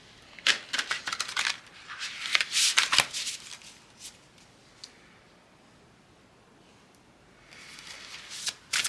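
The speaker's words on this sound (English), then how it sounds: "One more shuffle here." Tarot cards being shuffled by hand in bursts of crisp riffling and flicking, loud at first, then a few isolated taps across a quiet stretch, then another riffle near the end, with no talking.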